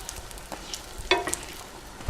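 Bread sizzles in butter on a hot griddle as it is flipped, a soft, steady low crackle with a brighter burst of frying partway through, close and fairly quiet, with no voices.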